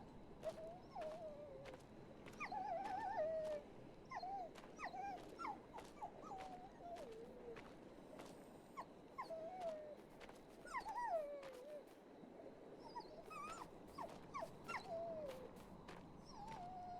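Dog whimpering in a video game, a string of thin, high whines and yips that repeat through the clip over a constant low ambient bed, fairly close and clear.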